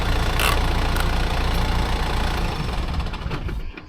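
A heavy tractor engine idles steadily with a low, knocking rumble, close and continuous, easing slightly toward the end.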